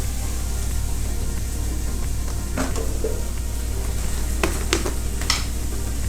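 Green chillies sauté in a pan while butter chicken is being prepared, giving a steady soft sizzle throughout, with a few light clinks of a utensil against the pan.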